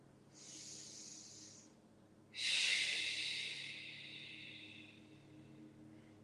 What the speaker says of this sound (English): Breathe 3 breaths here.